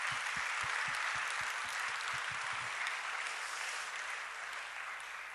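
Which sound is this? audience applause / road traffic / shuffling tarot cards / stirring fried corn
audience applause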